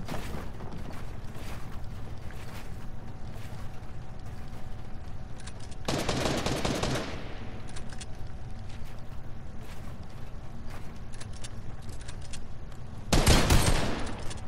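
Shotgun fire in a competitive 1v1 video game: two loud, brief blasts, each about a second long and several seconds apart, over a steady low background hum.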